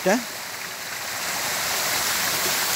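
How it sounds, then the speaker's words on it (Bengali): Lalghat waterfall near the Indian border, a steady flowing rush of water that swells slightly louder after a brief voice-like sound at the start. "ভারতীয় বর্ডারের লালঘাট ঝর্ণা"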